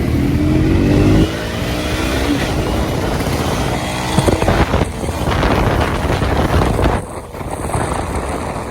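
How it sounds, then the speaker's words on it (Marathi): A KTM Duke motorcycle accelerates hard at speed on the road, its engine roaring steadily under heavy wind buffeting on the microphone, loud and close, with a brief dip as it shifts. "आता गाडी खेचणार आहे परत गाडी बघा"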